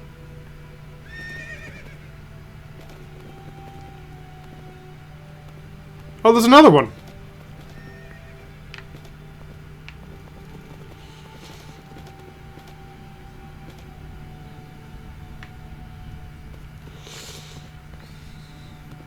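In the Minecraft video game, a horse gives one loud, rising whinny near the middle, with faint clip-clop hooves and game ambience around it while someone talks briefly.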